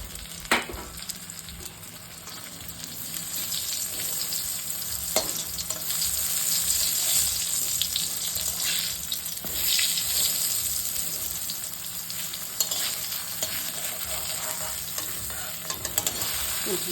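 Eggplant slices rubbed with salt and turmeric fry in a little oil over low heat, giving a continuous crackling sizzle with a few sharp spatula scrapes and clicks, close and steady throughout.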